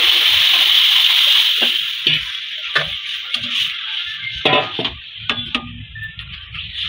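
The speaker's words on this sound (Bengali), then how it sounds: "এবার ডালটা দিয়ে দিচ্ছি" Boiled lentils for dal are poured into a pot with ginger and a little turmeric, giving a loud wet rush of sloshing liquid at first, then scattered splashes and knocks of a utensil against the pot, with no one talking.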